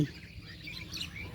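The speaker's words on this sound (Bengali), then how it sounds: "দেখুন শালিক পাখি শালিক পাখি" Myna birds chirping in a green Bengali village, short bright tweets heard faintly at a distance over low background rumble, with no talking.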